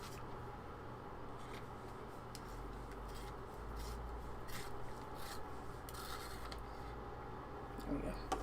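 Continuous dry rasping scrape of a colored pencil turning in a sharpener, steady and close, with a low hum underneath.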